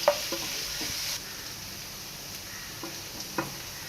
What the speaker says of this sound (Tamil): ஆயில் நல்லா காஞ்சதும் ஃபைன்லி சாப் கார்லிக், பொடியாக நறுக்குன பூண்டு சேர்த்துக்கோங்க